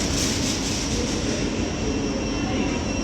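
A train departs London St Pancras bound for Luton, a loud, steady rumble and hiss of rolling stock filling the station without pause.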